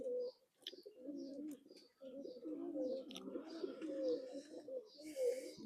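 Soft, low cooing from a chot-breed pigeon chick, heard close up as a steady run of throaty murmurs with brief pauses and a few faint chirps.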